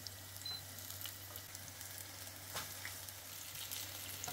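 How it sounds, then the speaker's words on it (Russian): Apple syrniki made without flour frying in sunflower oil in a large 28 cm pan over medium heat, giving a steady, quiet sizzle and crackle that runs throughout with no talking. "Выкладываем сырники на разогретую хорошо сковороду"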